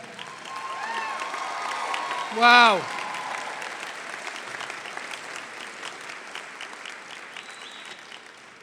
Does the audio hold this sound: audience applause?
yes